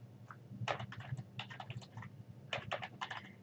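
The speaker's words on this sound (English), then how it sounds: "click at the end of the sentence to continue typing" Rapid typing on a computer keyboard in bursts of quick, close keystrokes with short pauses between them, heard alone over a low background hum.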